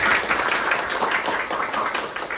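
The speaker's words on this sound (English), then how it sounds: "a big applause for the registrar" Applause from an audience at a formal farewell function, a thick, even wash of many hands clapping, moderately loud and sustained for the whole stretch with no talking over it.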